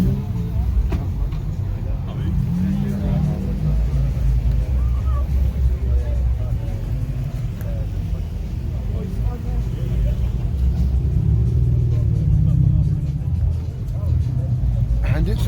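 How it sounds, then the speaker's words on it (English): A manual Toyota Supra at a Thetford car meet gives a steady low engine rumble throughout, partly buried under nearby people chatting and general crowd babble. "Oh my god, we have a Supra."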